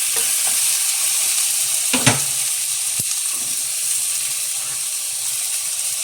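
Tomatoes hit a pot of pork sinigang and sizzle with a steady hiss of steam and frying, a spoon stirring with a sharp scrape near the middle and a clink shortly after.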